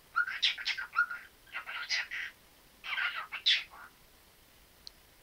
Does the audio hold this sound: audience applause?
no